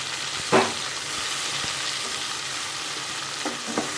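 Chopped tomatoes fry in a pan for a Tamil-style fish curry, giving a steady sizzle throughout with a couple of louder spatters and stirring scrapes near the start and end.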